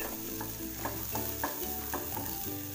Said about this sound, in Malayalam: ഇനി എല്ലാം കൂടി ഒന്ന് വഴറ്റാം